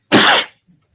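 A single sharp cough in a courtroom during a criminal trial, close and loud, lasting about half a second, followed by a faint low rumble.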